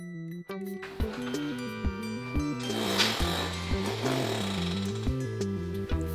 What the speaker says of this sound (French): petit coup de marteau-piqueur pour pouvoir passer au travers du mur afin de pouvoir arriver de l'autre côté à mon appartement